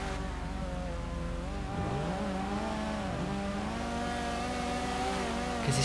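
Rallycross cars in GTA 5 race together, engines droning and revving steadily with rising and falling pitch as they shift through gears, a continuous loud pack of motors heard alone.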